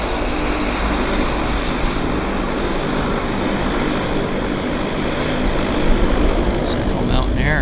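A Central Mountain Air Dash 8-100 turboprop drones steadily at an airport. The engine roar is broad and continuous, mid-distance, with a faint propeller hum. It holds at an even level and swells slightly near the end.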